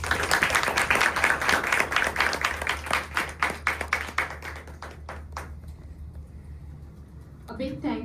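Audience applause at a Hindustani classical music open house, a dense, steady clapping that thins over several seconds into a few scattered, isolated claps before a voice begins speaking near the end.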